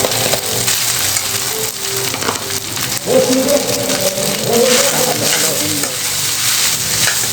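Crushed rice mixed with salt frying in a pan, a loud continuous sizzle with stirring and scraping close up, no talking.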